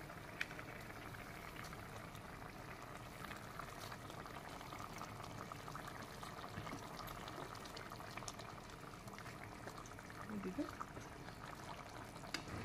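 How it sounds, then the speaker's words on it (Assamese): Fish broth at a rolling boil in a pot as pieces of fish go in, a steady bubbling hiss throughout with a brief splashy disturbance near the end, no voices over it. "এয়া জোলখিনি উতলিলে এতিয়া মই মাছখিনি দি দিওঁ তাতে।"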